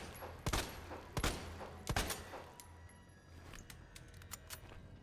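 Three loud, sharp gunshots ring out about a second apart in Resident Evil 2 or 3, followed by several fainter, quicker shots and clicks against a quiet backdrop.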